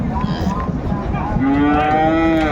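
Sahiwal bulls and other cattle at a livestock market in Chattogram, moo loudly and close by, with drawn-out tonal calls rising over a dense, busy background of market noise.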